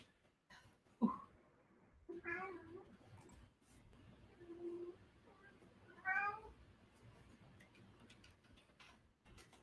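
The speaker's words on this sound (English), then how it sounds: "You hear my neighbor's cat?" A neighbor's cat meows several times, faint and somewhat distant, with a few separate calls spread across quiet stretches and light ticking in the background.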